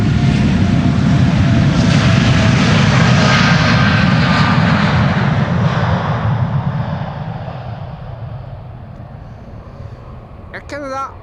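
An Air Canada Boeing 787-8 Dreamliner taking off from Amsterdam Schiphol for Toronto, its loud jet roar close and strong at first, then fading steadily into the distance, with a brief voice at the very end.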